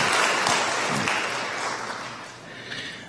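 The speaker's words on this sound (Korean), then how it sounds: "여러분들 환영의 박수 부탁드립니다." A church congregation claps to welcome a new member during a Sunday service, a dense, steady burst of applause that gradually thins and fades toward the end, with no one speaking over it.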